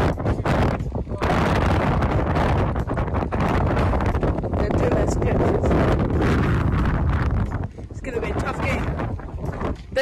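Heavy wind buffets an outdoor microphone at a soccer training session, a loud, continuous low roar that covers almost the whole stretch and eases near the end.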